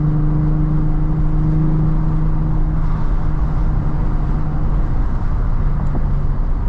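Heavy truck engine droning loudly and steadily at low speed on a road, a deep continuous rumble with a sustained tonal hum, heard close by from a following car with no talk.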